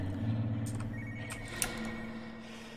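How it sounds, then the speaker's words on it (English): A telephone rings in an office building in the horror game Spooky's House of Jumpscares, a faint electronic trill under a steady droning ambience. "I hear a phone."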